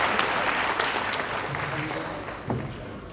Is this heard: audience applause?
yes